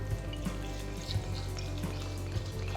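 Basmati rice being washed in water, a steady watery wash with soft splashes and sloshing pulses recurring about every half second, close and continuous.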